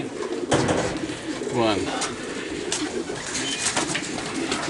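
Racing pigeons coo softly inside a loft at a one-loft race in Queensland, a low repeated burble with faint wing movement, while people talk briefly nearby.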